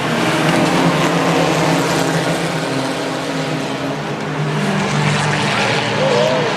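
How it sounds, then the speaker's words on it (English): Race cars on a dirt oval track, a loud continuous roar of several engines droning together, close and unbroken throughout. "Jarrett to the inside, trying to take over second place over Ronnie Crump in the 24"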